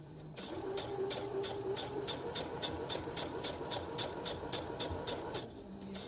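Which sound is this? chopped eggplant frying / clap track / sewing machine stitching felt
sewing machine stitching felt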